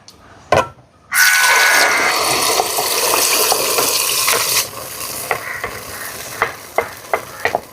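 Blended carrot poured into hot ghee: a couple of quick knocks, then a sudden loud, sustained hiss and bubbling sizzle that eases after a few seconds into a quieter simmer with sharp ticks and pops; no talking.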